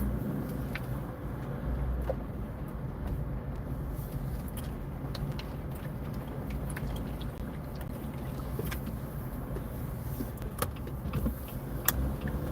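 Car engine running steadily with low rumble and continuous road or idle noise, a few faint clicks and rattles over it, no talk, as the vehicle pulls away in Big Bear, California.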